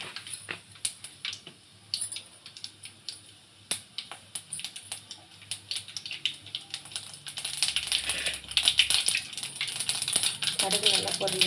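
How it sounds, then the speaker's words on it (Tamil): Mustard seeds and urad dal crackle and pop in hot oil in a kadai, at first as scattered snaps, then as a dense, loud spluttering toward the end. "கடுகு நல்லா பொரிஞ்சது"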